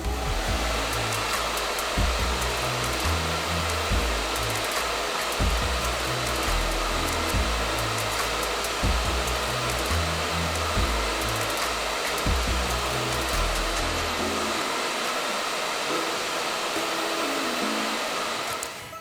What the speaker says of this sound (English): this time I am going to bump the heat up to high. It won't create frizz because this hairdryer has been specifically designed with curls in mind